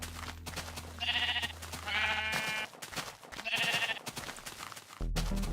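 Sheep in a video game bleat repeatedly while being sheared, the calls coming in several short, wavering bursts over a steady background tone.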